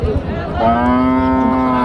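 A single loud cow moo at a cattle market rises and holds steady, a long bellowing call close by with faint crowd murmur underneath.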